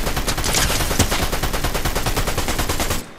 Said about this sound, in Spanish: de un disparo literalmente lo puedo desintegrar